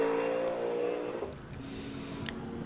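A GT race car at Donington Park during a GT Cup race day, its engine note droning loud and steady before easing off and shifting to a lower, rougher tone as it passes.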